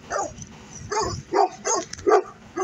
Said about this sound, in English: I think these dogs want me to leave.